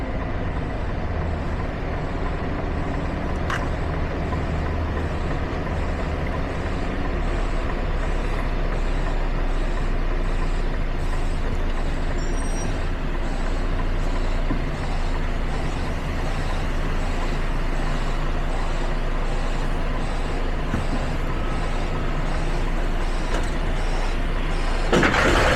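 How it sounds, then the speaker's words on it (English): An HGV truck reverses toward a trailer to hook up, its engine droning steadily and close for the whole stretch, with a faint hiss of air brakes and traffic noise underneath. "time to hook up to this trailer."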